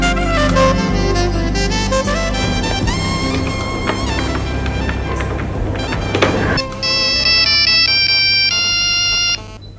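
A phone ringtone for an incoming call plays loudly and continuously, a bright repeating electronic melody that shifts to a higher tonal pattern partway through, with no talking.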